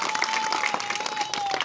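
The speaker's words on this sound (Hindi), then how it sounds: "ताली बजा दीजिए एक बार" A village crowd at a street magic show applauds with dense, steady clapping that runs throughout, a faint whistle-like tone riding over it.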